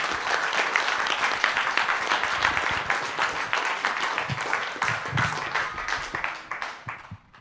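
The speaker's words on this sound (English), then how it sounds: "Applause, please." Crowd applause at a conference, steady clapping that carries on for several seconds before tapering off, with a few faint murmurs beneath it.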